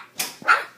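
A young Chow puppy gives two short, high yips close by, brief and separated by a quiet gap.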